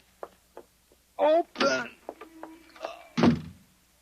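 Front door opened and shut in a classic science-fiction radio drama, a couple of solid thunks and a knock among the action, heard close and partly under agitated dialogue and struggling voices.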